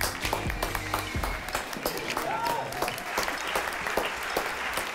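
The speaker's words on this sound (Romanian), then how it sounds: "Aplauze, vă rog frumos, pentru Marius și Vlad." An audience bursts into lively applause, many hands clapping at once in a dense, steady patter for a few seconds.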